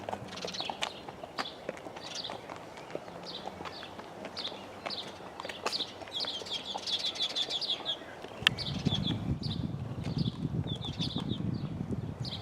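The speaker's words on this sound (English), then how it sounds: "From here I can hear faint music and birds." Birds chirp and sing in short, repeated bright phrases outdoors on a hillside, moderately distant, with a low rumbling ambience that grows louder in the latter part.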